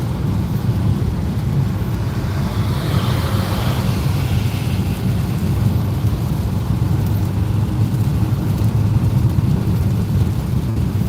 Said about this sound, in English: I can't help but feel pleased by all the rain